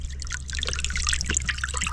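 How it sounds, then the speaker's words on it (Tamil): Minced chicken is rinsed in water by hand, with close splashing, trickling and dripping sounds in quick irregular bursts. "இப்போ அந்த கறியை வந்து நல்லா அலசிக்கிறான்."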